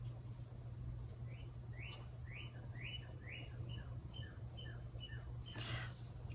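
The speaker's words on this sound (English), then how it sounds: "I don't know if you can hear the birds singing." Birds sing outdoors, a repeated series of bright rising chirps, fairly faint and distant, over a steady low hum indoors.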